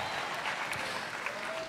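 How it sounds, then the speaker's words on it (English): A crowd at a SteelFist fight night applauds fighter Austin Bowden, a steady, full burst of clapping in a hall with a few scattered cheers, all fairly distant. "Can I get a big round of applause for Austin for coming in here on short notice, keeping this fight alive for us?"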